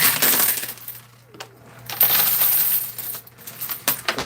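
Metal tokens clatter and jingle inside an arcade coin pusher machine, a loud, close cascade of bright metallic clinks that swells, briefly thins, then rattles on again.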